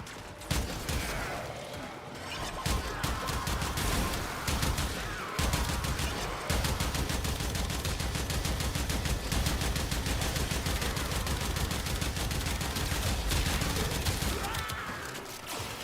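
Shotgun fire from the video game Warframe, with rapid, dense bursts of shots rattling almost without pause for the whole stretch, loud and close.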